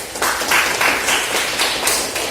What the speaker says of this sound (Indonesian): Kita beri tepuk tangan untuk dia.